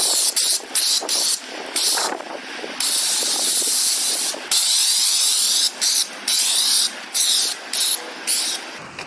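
Soap suds sprayed from a pressure sprayer onto a 1998 BMW 328is E36, a steady close hissing spray with brief pauses and bursts, running almost continuously and cutting off at the end.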